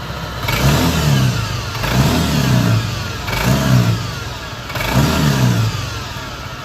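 Honda PCX scooter up on its stand, the engine revved four times in a steady rhythm, each rev swelling up loud and close and then falling back toward idle.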